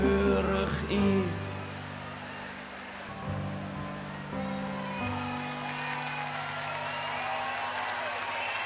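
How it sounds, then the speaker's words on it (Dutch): A crowd at a carnival event applauds a visiting delegation, steady clapping running under music and voices through most of the stretch. "Een applaus voor een liefste delegatie van het Ipe Losspel van Jorvert"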